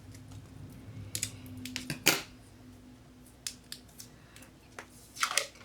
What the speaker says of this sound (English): I'm also going to use some scissors.